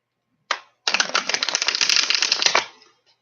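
A quick riffle of tarot cards, a brief flick followed by a dense, rapid fluttering shuffle lasting about two seconds, close up.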